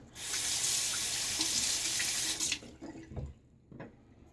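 A tap runs steadily while a Gillette Aristocrat safety razor is rinsed beneath it, a close hissing flow that stops after about two seconds, followed by a few faint knocks and drips.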